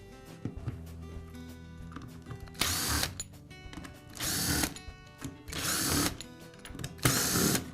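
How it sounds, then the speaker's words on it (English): A power driver whirs in four separate bursts while it backs screws out of the housing of a DeWALT hammer drill, with quiet handling noises in the pauses and no speech. "Now remove the remainder of the screws that secure the housings."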